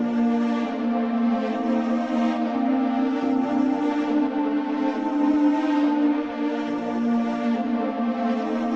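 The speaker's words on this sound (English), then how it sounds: "the next sound that I chose was the pad" A sustained, atmospheric synth pad using the Hollow Jupiters patch in Omnisphere, a steady shimmering chord that swells gently throughout. It plays loud and alone with no voices.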